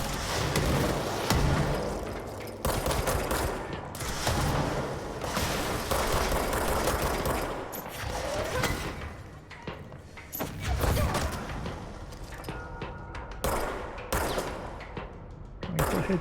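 Dense, continuous game gunfire from the PC action game Control, bursts and thuds layered over one another for the whole stretch, loud and busy, with bits of voice mixed in.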